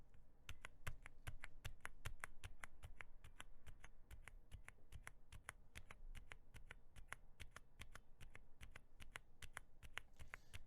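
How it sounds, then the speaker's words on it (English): Steady, even rapid keystrokes on a keyboard fitted with Wuque WS silent tactile switches, typed at normal strength: soft, muted, evenly spaced clicks running continuously, close and alone. "this is me typing at a roughly normal level of strength."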